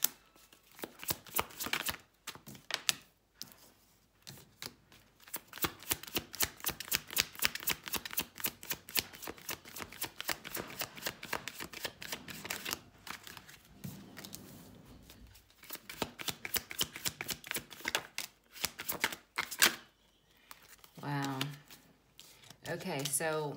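Tarot cards being shuffled over and over, with rapid riffling bursts and some pauses between them, fairly close and crisp. A voice speaks softly now and then alongside the shuffling.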